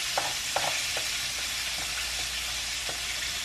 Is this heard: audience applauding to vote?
no